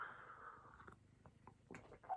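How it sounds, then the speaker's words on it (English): A cat purring close by, soft and low, with a steady rumbling hum at first that fades into faint shuffling and small movements. "Cat."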